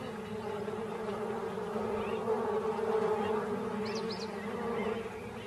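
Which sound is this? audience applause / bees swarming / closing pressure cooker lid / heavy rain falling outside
bees swarming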